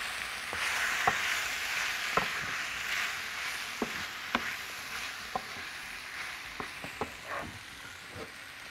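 Chicken pieces fry in a pan with tomato sauce, giving a steady soft sizzle with occasional sharp pops and a few utensil clicks as the mix is stirred, no talking.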